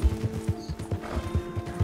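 Rhythmic clip-clop of a horse's hooves at a steady trot in Red Dead Redemption 2, close and clear, with a low musical drone underneath and no talking.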